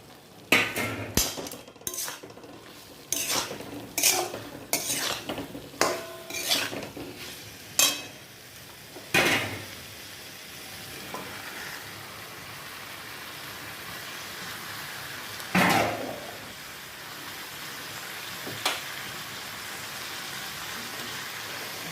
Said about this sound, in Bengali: এইবার আমি সবজিগুলো এর মধ্যে দিয়ে দিই